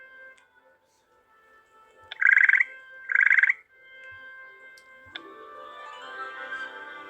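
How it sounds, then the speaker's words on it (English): A chocolate frog in the Harry Potter Hogwarts Mystery video game gives two short, buzzy croaks about a second apart, clear over a faint hum of game background sound. "we got us a chocolate frog"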